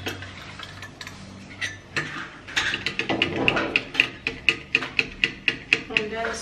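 A vitamin C mixture stirred in a bowl: a steady run of sharp, evenly spaced clicks and taps of the utensil against the bowl, quickening into a regular rhythm, close and fairly loud.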